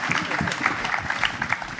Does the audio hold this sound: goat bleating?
no